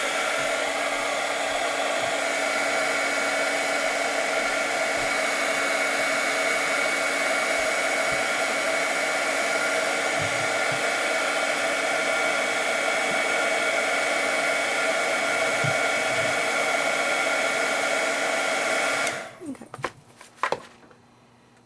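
A heat gun blows steadily and loudly while reheating a shrink plastic flower, a continuous close whoosh that lasts about nineteen seconds, then cuts off, followed by a few light clicks and taps.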